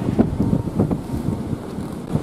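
Outdoor wind buffets a microphone during metal detecting, giving loud, gusty low rumbles that pulse irregularly throughout, with no voices.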